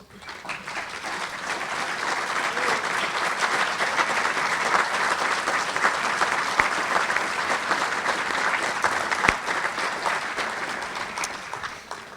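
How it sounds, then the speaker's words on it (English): An athletics hall of fame induction ceremony audience applauds as past members stand to be recognized, a steady, full round of clapping across a large room that swells and holds for about twelve seconds without talk. "Please stand and be recognized with a round of applause."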